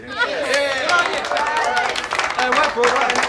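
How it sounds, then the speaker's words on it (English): A small crowd claps in a 1980s Australian TV soap scene, with dense, continuous applause mixed with cheering voices and chatter. "I think that deserves a clap"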